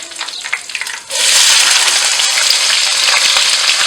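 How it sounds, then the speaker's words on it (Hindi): Cumin and onion drop into hot oil and burst into a loud, continuous sizzle that fills the clip after a quieter moment of clinking and crackling, with no talk. "प्याज और ज़ीरा जो है वो अच्छे से फ्राई हो चुके हैं"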